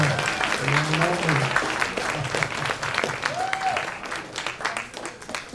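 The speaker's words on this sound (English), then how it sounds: "Give her a big giant round of applause." Audience applause at a college jazz band winter concert, a steady wash of clapping from a crowd in a hall, with cheers and a few voices rising over it and the clapping thinning toward the end.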